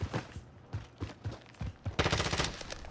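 Rapid bursts of gunfire in the online shooter Call of Duty Warzone, sharp repeated shots in uneven clusters ending in a dense volley, fairly close with no speech.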